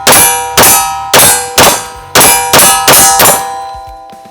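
Rapid series of eight sharp metallic clangs from 1911 pistol rounds striking a steel target, each ringing out and decaying before the next, loud and close with no talking.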